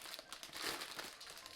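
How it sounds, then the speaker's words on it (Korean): Close, quiet crinkling of a plastic compression bag for backpacking gear, a rapid run of rustling crackles that lasts about a second and a half with no talk. "이게 압축 비닐이에요."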